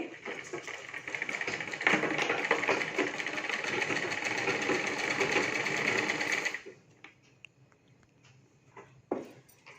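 A sewing machine runs steadily, stitching the lining of a kids' lehenga, loud and continuous for about six and a half seconds before stopping, followed by quieter handling sounds and a brief knock near the end.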